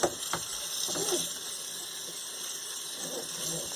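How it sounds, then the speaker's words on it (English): Steady running tap water rinsing beans in a sink, a constant close hiss with faint clatters underneath. "now you're just going to run water over it and rinse them off"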